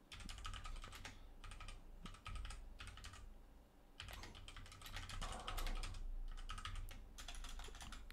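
Computer keys clatter in quick bursts of typing separated by short pauses, close and fairly quiet in a calm room.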